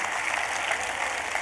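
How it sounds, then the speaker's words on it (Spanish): A church congregation applauds the Lord after a sermon, a steady, dense wash of clapping that fills the whole moment without pause or talk. "Si Dios te habló, da un aplauso al Señor."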